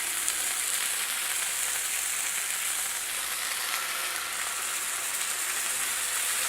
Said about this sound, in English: I like the sizzle.